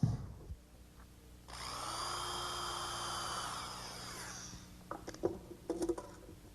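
A power drill whines for about three seconds, backing screws out of a wooden door jamb during a door installation, fairly close, followed by soft clicks and handling knocks.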